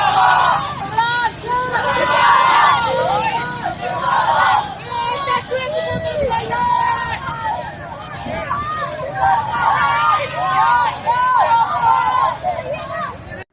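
Large outdoor crowd at a May 9 procession for Imran Khan, a dense roar of many voices chanting and shouting continuously, loud and close, swelling and dipping throughout.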